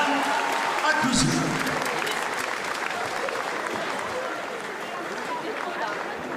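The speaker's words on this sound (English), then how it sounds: "applaudissements à l'équipe de France" An arena crowd at a European Championships men's team table tennis semifinal applauds in a dense, sustained wash of clapping that slowly tapers off, with a public-address voice speaking over it at the start.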